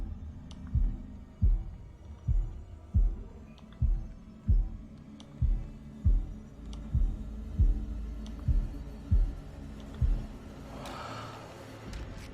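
A heartbeat from the video game House of Ashes thuds in a steady, slow rhythm, about a dozen deep low pulses, alone and fairly loud, with a brief scraping noise near the end.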